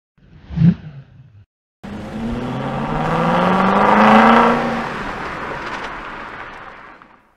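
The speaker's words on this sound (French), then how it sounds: "Une belle voiture rouge s'arrête près d'un panneau qui indique vers la gauche la gare de Moonbright." A red car pulls up and stops near a road sign, its engine note rising and whooshing closer, then easing off as it slows, loud and near, after a brief earlier thump.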